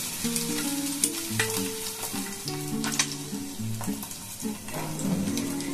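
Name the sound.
eggs frying in a pan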